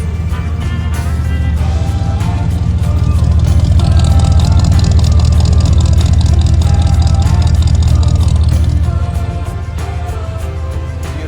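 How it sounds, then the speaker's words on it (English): A 1963 Chevrolet Impala engine runs with a deep, steady rumble close by, swelling slightly louder midway before easing back, with no talking. "Let's hear the motor real quick."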